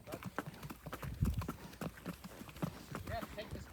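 Buckskin gelding horses clip-clopping, a steady stream of sharp hoof knocks, some near and loud, with people talking over them outdoors.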